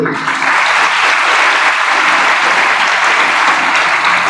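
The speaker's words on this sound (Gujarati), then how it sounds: "ખાસ એ શિક્ષકો માટે તાળીઓ પાડો કે જે તમને લઈને અહીંયા આવ્યા છે" A large crowd at an outdoor motivational talk in Chhota Udepur claps loudly and steadily for a few seconds, a dense, close wash of applause with no voices heard above it.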